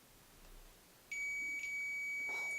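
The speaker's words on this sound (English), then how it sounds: "this one is what we're using when we're asking the ghost to create that beeping sound" A ghost hunting device lets out a steady electronic beep that starts abruptly and holds loud and high-pitched for over a second in an otherwise quiet room.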